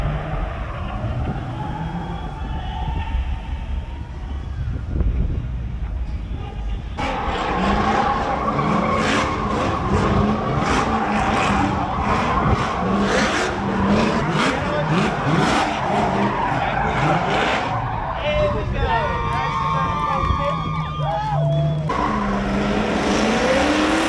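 Drifting cars with V8 and 2JZ engines at a street drift event in Cape Town, roaring engines and long continuous tire skidding and squealing, loud and sustained throughout, with crowd noise underneath.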